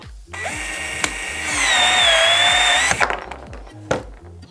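A Milwaukee C12 cordless pipe cutter slices through reinforced 20mm PEX pipe, a loud, steady whirring motor drone with a strained middle stretch while the blade bites, then a clunk as it stops, with faint rhythmic clicking throughout.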